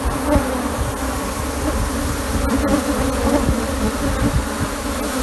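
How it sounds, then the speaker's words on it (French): Africanized honey bees buzz densely at their nest in a Brazilian setting, a constant close swarm drone with scattered individual bees zipping past, no talk. "on est en train de récupérer les abeilles avec un bac dans le nid en fait"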